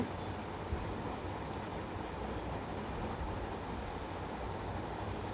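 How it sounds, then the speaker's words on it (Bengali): A long passenger train of about eighteen or nineteen coaches pulls slowly out of a station, giving a steady, continuous low rumble of rolling wheels and cars at moderate distance, with no talking. "এই যে ট্রেনটা আস্তে আস্তে ছেড়ে যাচ্ছে"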